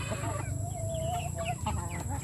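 Chickens sick with colds from constant rain cluck and murmur nearby in overlapping, irregular calls, with a drawn-out squawk partway through, over a constant low hum.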